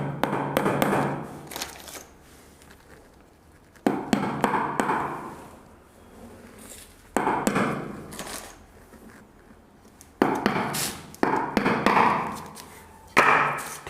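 Nails are hammered into the front board of a wooden drawer being built, heard as several short bursts of sharp taps and thuds separated by quiet pauses, close and fairly loud, with no talking.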